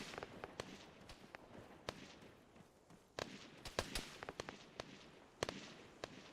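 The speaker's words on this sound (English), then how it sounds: "here come the mortars" Incoming mortar rounds in the Antistasi mod for a military shooter crack and thud in a rapid irregular string, a dozen or more sharp bursts of varying loudness, some distant and some closer, over a low rumbling background.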